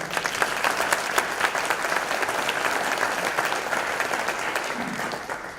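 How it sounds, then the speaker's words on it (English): An audience at a teacher education award ceremony gives a warm, sustained round of applause, many hands clapping evenly and filling the room for several seconds. "Can we please give Sue a round of applause?"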